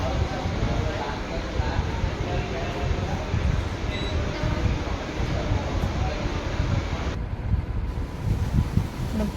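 Cold wind blowing hard outside during heavy rain, a loud, steady broadband roar with rushing gusts that continues unbroken and with no voices throughout.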